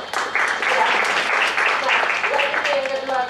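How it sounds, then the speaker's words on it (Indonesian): A seated audience at an arts discussion during a Yogyakarta arts festival breaks into sustained applause, steady and fairly loud, with voices mixed in beneath the clapping. "boleh minta tepuk tangan untuk Kakin ya"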